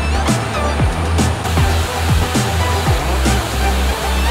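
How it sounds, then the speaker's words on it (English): The Shuiliandong waterfall on a mountain trail gives a constant, loud broadband roar of falling water. Regular footsteps and faint rustling sit just above the rush. "Wow, look at the waterfall over there."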